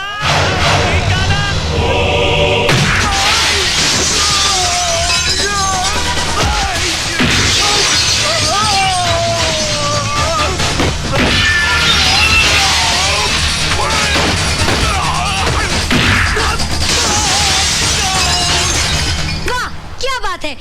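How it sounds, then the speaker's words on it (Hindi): Glass shatters and crashes as men are hurled through panes during a brawl in an action film scene, loud and repeated amid dramatic music, thuds and shouting voices. "यू उठाया, यू मारा, कांच टूटा, बंदा बाहर।"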